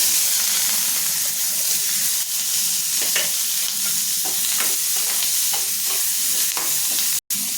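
Two chopped large onions and three cloves of garlic fry in a pan for tomato-coriander chutney, hissing and sizzling steadily close by while a utensil stirs through them, with no talk.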